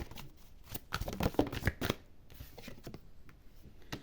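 Oracle cards are shuffled by hand in a quick series of crisp riffling slaps and flutters, busiest in the first two seconds, then thinning to sparse taps and soft handling.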